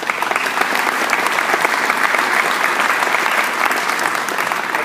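Sustained audience applause at a Hostess Brands ribbon cutting in Emporia, a loud, even roar of many hands clapping that holds steady for several seconds.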